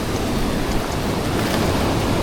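Ocean waves surge around a small fishing spot out on the water, a loud, continuous wash of surf mixed with gusty wind buffeting the microphone, and no voices.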